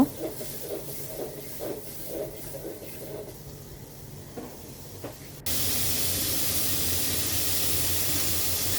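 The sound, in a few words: bitter gourd and potatoes frying with onion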